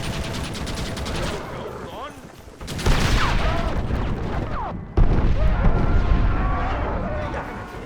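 Rapid bursts of gunfire crackle in dense volleys, broken by a brief lull, with game-like booms and effects filling the mix, in Red Dead Redemption.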